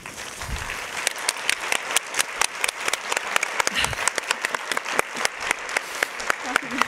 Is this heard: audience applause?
yes